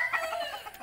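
A chicken at a poultry farm in Temanggung, Central Java, giving a short burst of clucks, close and moderately loud in a brief snippet.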